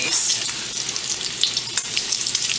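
Bacon fries in a pan with a steady crackling sizzle and scattered pops of grease, close and constant.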